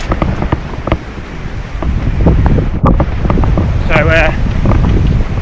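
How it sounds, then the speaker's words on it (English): Waterfall on a trail run after a storm, a constant roaring rush of water close by, mixed with gusty wind buffeting the microphone. "Apologies for the waterfall in the background."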